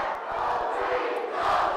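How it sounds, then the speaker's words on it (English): A loud crowd cheering and yelling in a school gym during a regional finals basketball game between McBain and Lake City, a dense roar of voices that swells toward the end. "I'm losing my words just from this crowd. It's so loud in this gym."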